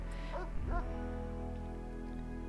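A wounded dog in the video game RimWorld gives a short whimpering yelp, faint over a steady tonal game hum.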